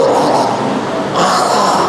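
A voice imitates the rattling throat sound of a dying person, a rough, gurgling grunt sustained for about two seconds, close and fairly loud, with a brief dip before it swells again.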